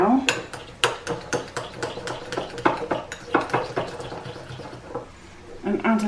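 Garlic butter made with dairy-free spread and garlic cloves is mixed in a pan, a utensil scraping and clinking against the metal in quick, uneven strokes, close and moderately loud with no talk.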